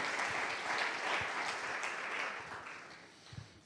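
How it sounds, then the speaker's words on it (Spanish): Church congregation applauding during a Spanish-language sermon, a dense sustained wash of clapping that holds steady before fading toward the end, with a few low thumps underneath. "Dale un fuerte aplauso a Él en esta noche."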